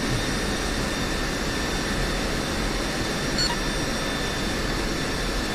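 Jet aircraft roar in a DCS flight-sim reenactment of the 1991 Gulf War, with F-16s, an F-18 and RAF Tornados on an airfield: a steady, loud, broadband engine rumble and whine throughout, with no voices.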